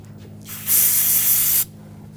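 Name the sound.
brake parts cleaner being sprayed on engine intake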